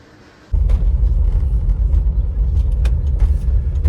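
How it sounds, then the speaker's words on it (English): A 2002 Land Rover Discovery 2 starts up after a quiet moment and settles into a loud, steady rumble of its engine while pulling away, with a few brief clicks and knocks over the running motor. "I'm gonna start up the car, drive it around the block."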